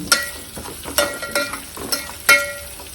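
Asafoetida goes into dal cooking in a pan, heard as a series of sharp clinks and scrapes of a spoon against the pot over a soft sizzle, close up and spaced irregularly, with no talking.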